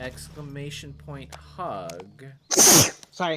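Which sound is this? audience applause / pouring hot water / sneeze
sneeze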